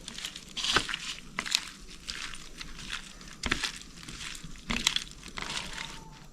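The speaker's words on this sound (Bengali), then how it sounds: "আমি মাছে একটু নুন হলুদ মাখিয়ে নিচ্ছি" Bare hands rub salt and turmeric into small mourola fish, producing soft wet squishing and crinkling in uneven bursts, with several sharper handling sounds, close and moderately quiet.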